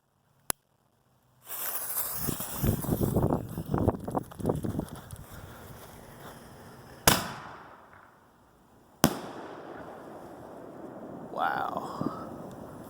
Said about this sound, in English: So let's check out Pro Ox 60-gram can from Maddox Fireworks.